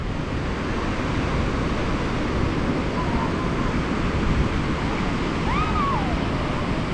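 Strong ocean waves at sea around a fishing boat, a loud continuous rushing wash mixed with wind buffeting the microphone, steady throughout with a faint voice briefly underneath.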